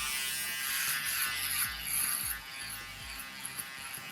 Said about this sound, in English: Using my shaver now just to make sure we go down to the skin.